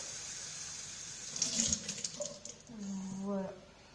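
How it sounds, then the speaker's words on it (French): Water runs from a tap into a plastic cup in a steady, moderately close splashing stream that swells as the cup fills, with a voice speaking briefly over it. "il faut verser de l'eau dans le gobelet"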